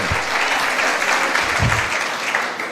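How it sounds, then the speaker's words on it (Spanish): Loud applause from a church congregation, dense clapping sustained throughout with a few sharper hits, crowd close and enthusiastic. "si va a aplaudir a Dios, dele con ganas"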